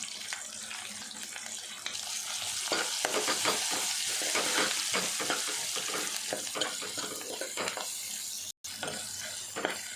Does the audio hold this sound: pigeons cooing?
no